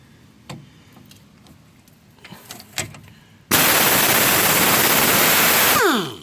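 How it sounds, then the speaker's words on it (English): Impact wrench removing a 14mm bolt from a Toyota Corolla strut, after a few quiet clicks and handling sounds, a sudden loud continuous rattling hammer for about two and a half seconds that then winds down. "we'll just put it on the impact wrench and get it right off"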